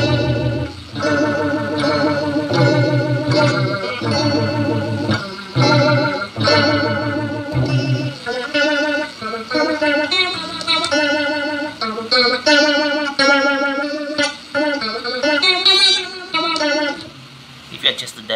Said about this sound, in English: The phaser, it's the phasing sound.